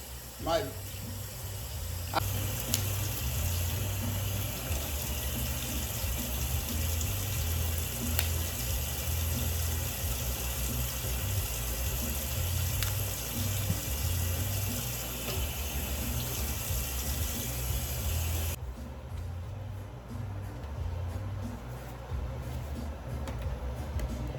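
Vegetables, including beans and squash, are washed under a running kitchen tap, a steady close stream of water lasting about twenty seconds before it cuts off, with a voice faintly present.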